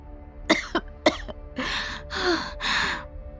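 A person coughs several times, first a few short sharp coughs, then three longer, harsher ones, close and clear with no talking.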